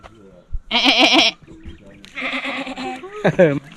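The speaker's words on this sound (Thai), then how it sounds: "มีทั้งหมด 17 ตัวในฟาร์มเนี้ยแพะร้องอ่ะ" Goats on a rural farm in America give a few loud, wavering bleats close by, separated by short gaps, with people talking between them.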